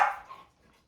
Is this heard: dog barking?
yes